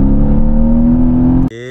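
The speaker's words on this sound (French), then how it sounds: "c'est le fameux V8 biturbo, donc qui fait 467 chevaux" A Mercedes-AMG GT with a 467-horsepower twin-turbo V8 runs loud and close in a deep, steady drone that climbs slightly in pitch, then cuts abruptly to a different sustained tone near the end.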